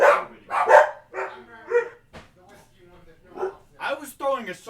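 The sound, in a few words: dog barking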